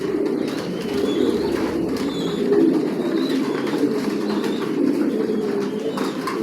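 Racing pigeons coo steadily inside a loft, a dense, continuous murmur of overlapping low coos with occasional fluttering, close and moderately loud throughout with no talk.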